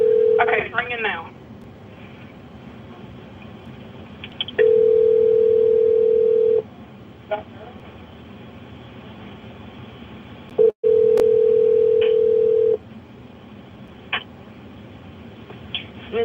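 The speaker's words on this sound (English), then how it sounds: "it's ringing now" A telephone ringback tone sounds in long steady buzzes separated by pauses, heard down a phone line with faint background hiss, on a call to Smith State Prison.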